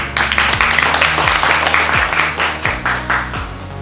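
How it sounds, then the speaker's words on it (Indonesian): Guests at a Lions Club regular meeting applaud, loud close clapping over background music with a repeating bass pattern. "Tepuk tangan."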